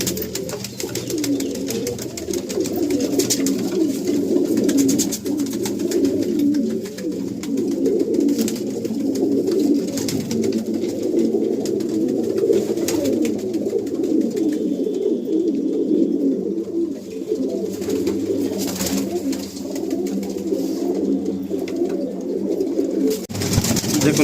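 Pigeons coo continuously in a breeding loft of male breeder birds in South Kolkata, a dense, steady murmur of many birds calling close by with no talking over it.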